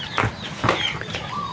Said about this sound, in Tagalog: Yung may pagka-gold na manok natin.